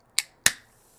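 Two sharp, crisp pops from a kombucha can being opened, the second louder with a brief fizzing hiss trailing after, heard close up in a quiet room.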